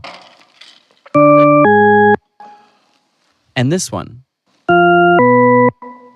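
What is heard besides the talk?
tritone paradox auditory illusion tones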